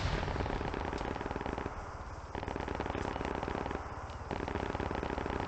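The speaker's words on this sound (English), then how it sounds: "We can get the tank to hit this artillery unit over here." Tank cannon and gunfire in the Arma 3 military game, hitting an artillery unit: a dense, continuous crackle of rapid shots and bursts, loud throughout with brief dips, no talk.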